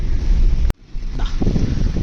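Floodwater rushes steadily over a bridge in Gonikoppal, Coorg, a loud, continuous roar mixed with wind buffeting the microphone, with a brief dropout partway through.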